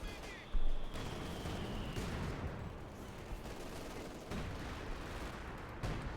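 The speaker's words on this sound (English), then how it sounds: "Major moving up here, calling it artillery" Artillery barrage in the World War II strategy game Company of Heroes 2 rumbles as dense, overlapping booms and gunfire, a steady heavy wash with a few sharper blasts.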